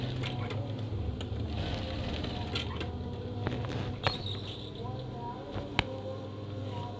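A sewing machine stitches the middle of a screen curtain, running in a steady faint whir with small clicks and a sharp tap near the end, heard alone without talk.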